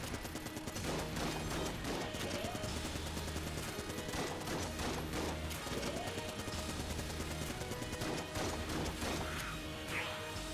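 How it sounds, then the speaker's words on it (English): A boss's rocket barrage lands in the Enter the Gungeon shooter, a loud unbroken fusillade of rapid blasts and crashes layered over a driving game soundtrack, intense throughout. "There's the rockets incoming."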